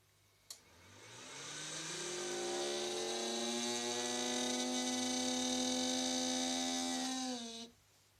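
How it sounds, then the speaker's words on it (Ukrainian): A faulty cooling fan spins up with a rising whine, then holds a steady, strained electric hum with a harsh buzzing edge for several seconds before cutting off abruptly, heard close and alone. "Проблема в тому, що цей вентилятор погано працює."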